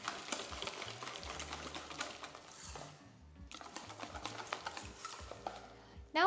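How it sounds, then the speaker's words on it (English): A whisk beats raspberry and rose jelly smooth in a bowl with quick, rhythmic clicking strokes against the sides, close and fairly quiet, briefly pausing midway before resuming, with music playing softly underneath. "we just want to whisk it until it's nice and smooth"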